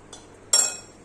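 A homemade Irish cream liqueur mixture is stirred, giving a faint tap followed by one brighter ringing clink of a spoon against glass that fades away in a quiet room.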